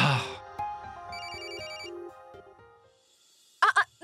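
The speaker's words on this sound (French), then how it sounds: "Quelqu'un essaie de nous appeler tout le temps." A telephone rings with a repeated electronic ring pattern in the middle of the clip, fairly clear and moderately loud, with brief voice sounds at the start and end.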